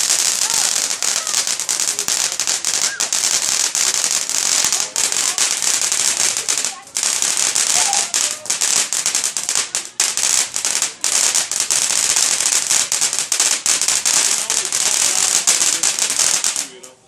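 Fireworks set off at close range crackle and pop in dense, continuous bursts, loud and nearly unbroken for the whole stretch, with brief lulls between volleys and voices now and then.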